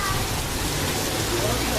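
Heavy rain pours steadily in Arizona, a dense, even hiss of downpour with a low rumble underneath, close and continuous throughout with no break.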